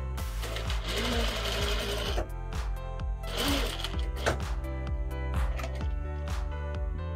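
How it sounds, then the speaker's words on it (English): Sewing machine stitching fabric for a small tote bag, a fast steady chattering run that pauses briefly and starts again, close and loud with no speech. "raise my presser foot, turn my work, and continue stitching"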